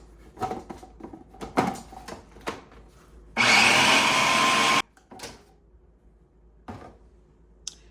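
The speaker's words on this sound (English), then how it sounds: "you're going to blend it to make sure it's nice and smooth" A blender whirs loud and steady for about a second and a half, blending vegan black bean brownie batter, framed by sharp kitchen knocks and clatter before and after.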